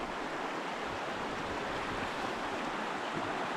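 Steady rushing water, a continuous broadband wash like a river flowing close by, with no voices.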